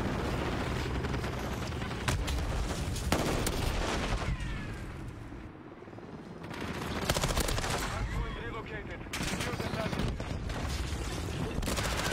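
Video-game gunfire crackles in bursts, with rapid automatic volleys and booming shots close up, dropping to a quieter gap midway before the shooting resumes.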